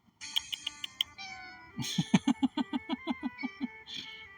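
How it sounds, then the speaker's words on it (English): A cat meows repeatedly, a string of short close cries that rise into a quicker run of louder, harsher yowls before one last higher call. "Oh my god, the cat."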